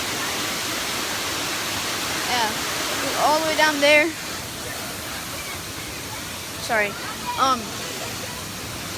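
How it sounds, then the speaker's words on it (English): A waterfall on a hiking trail rushes in a steady, loud broadband roar throughout, with people talking and voices chattering briefly over it. "I'm at this waterfall. It's actually really cool."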